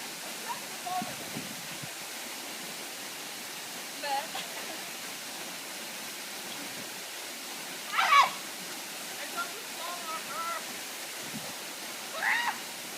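A waterfall at an outdoor swimming spot at sunset gives off a soft, steady rushing hiss heard from some distance, with a few brief faint voices.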